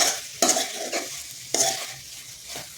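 Soya chunks fry with curry leaves in a pan and are stirred, giving a close sizzle punctuated by three or four distinct scraping stirs of a spoon.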